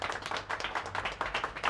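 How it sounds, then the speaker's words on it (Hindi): A studio-launch audience claps in a quick, dense burst of close hand claps, steady and loud for under two seconds with no voices. "तालियाँ जोर सी बजनी चाहिए"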